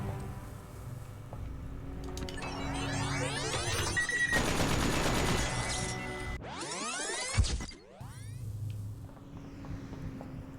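Rapid sci-fi turret fire in The Talos Principle, a dense run of sustained synthetic bursts with rising and sweeping electronic tones, loud and close, pausing briefly before a swooping burst and trailing off.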